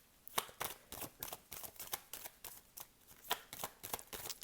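Oracle cards are shuffled by hand in a quick series of crisp, close riffling flicks and slaps, repeated at an irregular rhythm, soft and near with no talking.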